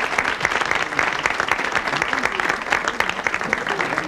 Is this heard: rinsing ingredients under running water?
no